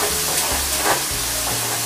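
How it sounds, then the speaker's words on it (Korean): Braised tofu and chives get stirred in a pan with the heat off, a continuous soft sizzle and scraping swirl close up, steady and alone without voices. "두부와 부추를 잘 섞어주겠습니다"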